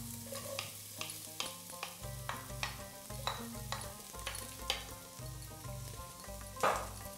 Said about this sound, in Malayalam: ഇതിലേക്ക് നമ്മൾ സവാള ചേർത്ത് കൊടുക്കാൻ പോവാണ്